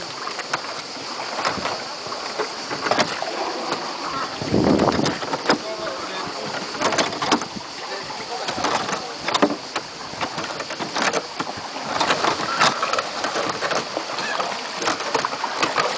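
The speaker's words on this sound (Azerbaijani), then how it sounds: "Bax beləcə qayıqla da gəzmənin öz başqa ləzzəti var." A boat ride on open water at a resort in Lerik, Azerbaijan, with steady wind rush, intermittent splashes and sloshing throughout, and voices faintly in the background.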